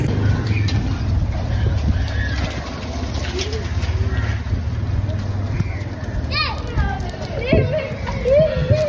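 Children play in a busy street in Kattankudy, Sri Lanka, many of them on bikes, making a lively crowd murmur with pigeons cooing nearby and someone speaking over the din.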